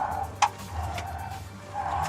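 A NEVS Saab Emily GT electric car with in-wheel motors and torque vectoring weaves through a slalom, its tires squealing and scrubbing in short bursts over a low rolling hum, with one sharp squeal standing out.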